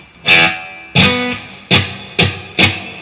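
Five guitar chords played through a reverb pedal, strummed at an even pace, each ringing out into a spacious reverb tail that fades before the next strike.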